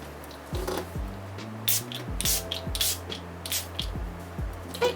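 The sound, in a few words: Dewy Glow fixing spray sprayed across face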